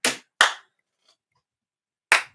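Sharp hand claps for production sync ring out alone in a quiet space. Two quick claps come close together, and a third follows after a short pause.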